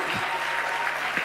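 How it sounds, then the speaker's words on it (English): Quiet, distant clapping from a small audience at a World Intellectual Property Day event, a soft continuous patter with a few louder low thumps, heard faintly under a room hum. "Clap hands for me."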